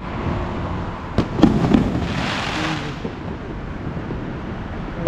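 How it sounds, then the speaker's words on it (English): Fireworks explode during New Year celebrations in Shigatse, Tibet, with scattered pops and bangs near and far over a constant crackling rumble. "they're everywhere. The fireworks are everywhere."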